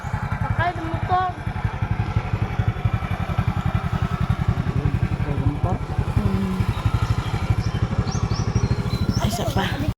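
A motorcycle engine runs steadily close by with a dense, even pulsing throb that holds for the whole stretch, while people talk over it and a few birds chirp faintly in the background.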